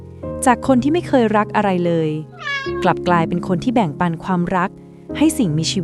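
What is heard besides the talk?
cat meowing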